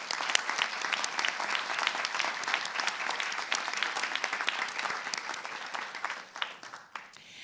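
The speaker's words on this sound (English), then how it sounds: "I would like to have a collective round of applause for all of our" Steady, fairly distant audience applause for retirees at a Wall Township Board of Education meeting, dense and even for about seven seconds before tapering off near the end.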